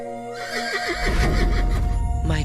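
A horse whinnies in a long rising and falling neigh, followed by a loud rumbling rush and a second brief whinny at the end, with no voices.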